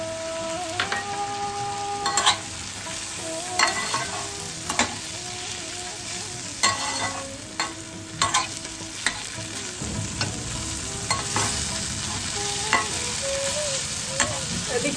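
Banana stem and tomatoes fry with spices in a pan for dal, a constant close sizzle broken by repeated sharp scrapes and clatters of a spatula stirring.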